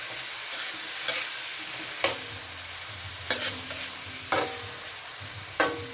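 Chicken stir-fries for chop suey in a hot pan, a steady sizzle broken by sharp scrapes and clanks of the utensil against the pan every second or so.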